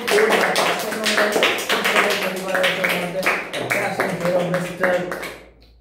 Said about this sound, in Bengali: জোরে হাততালি ওর জন্য।